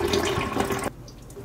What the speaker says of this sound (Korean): 유청을 넣고